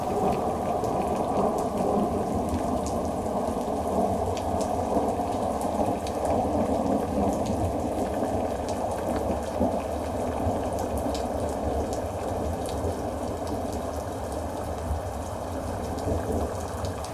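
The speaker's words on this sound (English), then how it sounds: "So, rain sounds now." Steady, heavy rain pours without pause throughout, with low thunder rumbling beneath the dense hiss of drops on surfaces; no voices.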